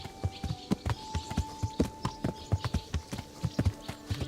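Horse hooves clip-clopping at a steady walking pace in the medieval game Kingdom Come: Deliverance, close and distinct over a faint hum, with no talk.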